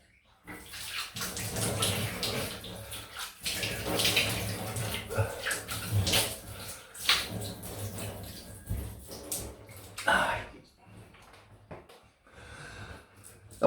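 Running water splashing irregularly in a sink as a face is rinsed after a wet shave, close and uneven with snorts and brief pauses.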